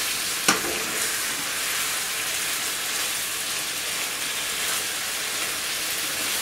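Fried aubergine and potatoes get stirred together in a pan, a steady loud hiss of frying with one sharp tap of a utensil at the start, close and uninterrupted by voices.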